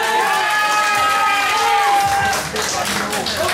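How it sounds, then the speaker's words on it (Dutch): Crowd at a fight night applauding and cheering for a fighter's fans: sustained clapping and cheers from a large room, with an amplified voice and a ringing tone over the noise. "Een grote applaus voor de fans van de Trevino"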